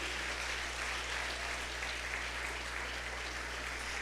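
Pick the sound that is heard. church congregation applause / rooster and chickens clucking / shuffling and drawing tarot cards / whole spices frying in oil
church congregation applause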